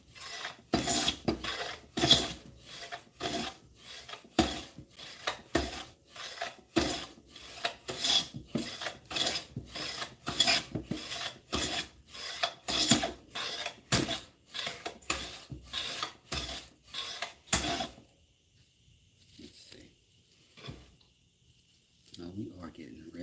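A Stanley No. 4 hand plane with a reworked chip breaker and blade takes thin shavings off a wooden board in a steady series of rasping strokes, close and moderately loud, stopping near the end.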